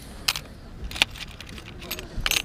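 Keys jangling at a flea market, a few bright metallic rattles and clinks in short bursts over faint outdoor background noise.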